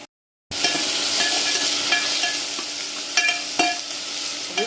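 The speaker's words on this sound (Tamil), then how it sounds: "அடுத்தது நம்ம எல்லாம் ரெடி பண்ணி வச்சுருக்கிற ரசத்துக்கு தேவையான பொருளுங்களை போட்டு வதக்கி எடுத்துடலாம்." Rasam ingredients sauté in hot oil with mustard seeds and curry leaves, giving a steady close sizzle and hiss with occasional sharp crackles and spoon scrapes, starting after a brief silence.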